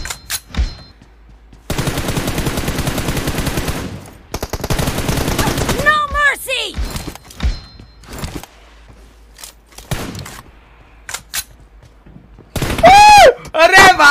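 Gunfire in the mobile shooter PUBG Mobile: loud bursts of automatic fire in rapid strings, separated by short pauses and single shots, with chirping effects and close voices cutting in.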